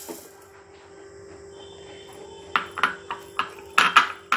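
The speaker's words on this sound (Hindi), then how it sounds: "पहले हम दाल को इसमें डाल देंगे।" Dal lentils poured into a brass cooking pot, a scatter of bright metallic pings and rattles in quick bursts after a quiet start, close and clear.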